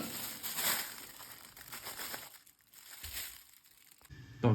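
A plastic bag crinkles and rustles in uneven bursts, close by, with brief pauses between handling sounds.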